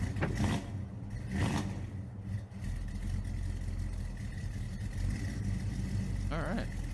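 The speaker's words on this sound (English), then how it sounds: "let's fire her up," Tractor engine starting up in Farming Simulator 22, a 1976-era farm setup inside a garage, settling into a steady low idle that runs continuously with a brief cranking burst near the start.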